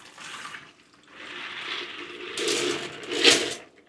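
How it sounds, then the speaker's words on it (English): Water is poured from a container into a drain catch while cleaning airgun pellets, several short splashing gushes that grow louder toward the end, heard close and alone. "pour it into the drain catch."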